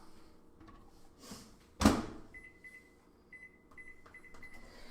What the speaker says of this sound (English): Now, I'm going to put it in the microwave